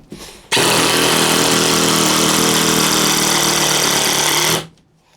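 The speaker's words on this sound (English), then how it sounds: "Let's go ahead and drive again with the DEWALT in a new hole." A DeWalt 18/20 volt compact impact driver drives a screw into a fresh hole with a loud, close, rapid hammering rattle. It holds steady for about four seconds, then winds down.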